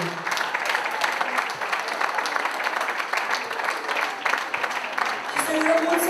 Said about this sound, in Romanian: aș vrea să primim cu aplauze